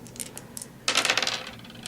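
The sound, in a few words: two dice rolled in a Warhammer 40k tabletop game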